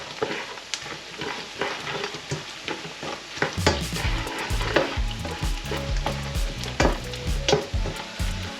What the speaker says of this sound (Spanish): cebolla pochada, le añadimos el azafrán en hebra para que se tueste un poquito